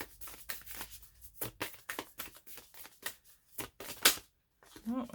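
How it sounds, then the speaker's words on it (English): Oracle cards being shuffled by hand in a run of quick, papery riffling bursts, close and moderately loud, with brief pauses and a faint voice near the end. "I'm just going to keep shuffling until I get one specific message for you all"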